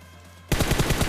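Rapid automatic gunfire from a squad battle in a solo-versus-squad shooter game erupts after half a second of near silence, a loud, dense burst of repeated shots that continues steadily to the end.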